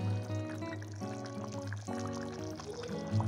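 Water is poured into mash dal cooking in a karahi, a continuous pouring trickle heard under steady background music.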